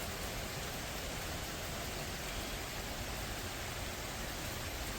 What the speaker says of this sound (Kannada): ಊಟಿನಲ್ಲಿ ಫುಲ್ಲು ಮಳೆ,